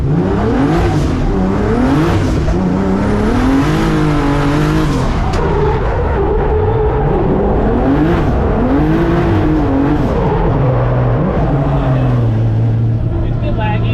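Competition BMW E36 engine droning steadily on a race track, pitch rising and falling through gear changes with a continuous loud roar and tire noise throughout.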